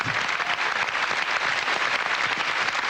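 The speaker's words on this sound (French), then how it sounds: "On applaudit à la fois la parolière, le compositeur et l'interprète." Studio audience applauding on a 1995 French TV talk show, steady dense clapping filling the whole stretch at even loudness with no talk over it.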